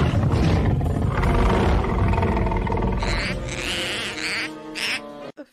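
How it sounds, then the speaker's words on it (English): The baby dinosaur Chomper from the animated film Land Before Time V gives a low growling rumble, then a run of high, squeaky, dolphin-like chirps and whistles. "how Chomper goes into freaking dolphin language when he's speaking"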